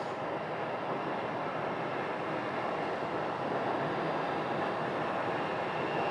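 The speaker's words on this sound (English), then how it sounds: "we just had another American A321 landing on runway 26" An American Airlines A321 airliner lands on runway 26, a steady broadband roar from jet engines and rushing air holding at an even level throughout, with no voices.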